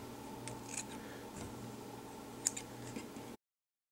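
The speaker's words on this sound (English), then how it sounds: "I start by just kind of trimming the head a little bit." Scissors snip fly-tying fibers while trimming the head of an Everglades Special EP tarpon fly, giving a few soft, close cuts with one sharper snip standing out against a quiet room hum.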